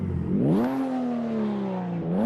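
A BMW engine in the Assetto Corsa EVO racing game revs up hard, climbs, then holds a loud steady whining drone close up, with no talk over it.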